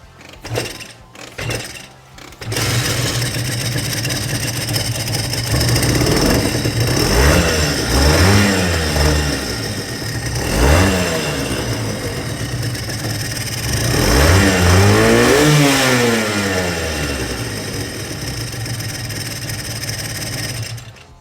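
A few sharp kicks, then a small NSR motorcycle engine bursts to life and revs repeatedly, rising and falling in pitch between steady idling, in a quiet residential street.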